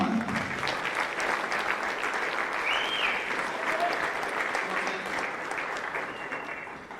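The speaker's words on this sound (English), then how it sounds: "give those cross country kids a round of applause" A crowd at a high school sports banquet applauds steadily, dense clapping filling the room at an even level for several seconds before tapering slightly at the end.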